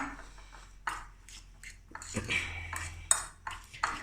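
A spoon mixing mayonnaise into a kabab mixture in a bowl, with a few scattered scrapes and light clinks against the dish, fairly quiet, while a person talks over it.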